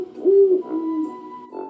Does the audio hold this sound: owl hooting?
yes